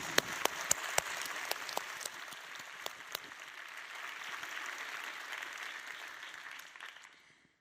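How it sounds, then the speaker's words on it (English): Applause from an audience honouring two Australian researchers newly elected Fellows of the Royal Society, steady and moderately distant with a few sharper nearby claps, fading out near the end. "A big round of applause to you both"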